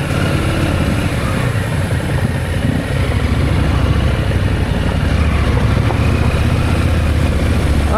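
Motorcycle engine running steadily while riding a mining forest road in Yilan, a loud continuous drone with road and wind rumble throughout.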